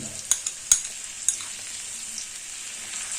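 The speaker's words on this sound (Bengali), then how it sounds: "এবার এই মশলাগুলো এই সবজির সঙ্গে একটু কষিয়ে নেব" Spices with ginger, green chillies, turmeric and salt being sautéed with vegetables for a vegetarian dalia khichuri, giving a steady soft sizzle with a few sharp clicks of a spoon against the pan near the start.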